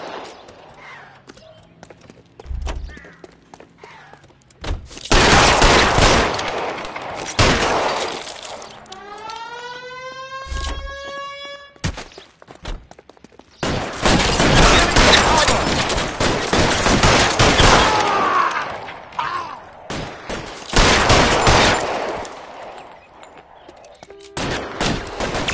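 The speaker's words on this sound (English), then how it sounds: "Suppressing fire." Gunfire in the video game LA Noire, with loud bursts of shots, shattering glass and breaking debris coming in waves between quieter gaps, plus a brief rising whine; voices speak faintly at moments.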